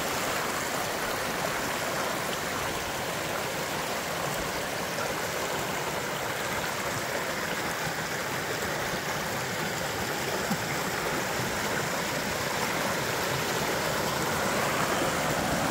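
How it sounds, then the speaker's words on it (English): A fast-flowing, steep mountain creek in Utah rushes steadily nearby, a constant broad hiss of tumbling water with no other sounds. "So it's a steep, aggressive creek"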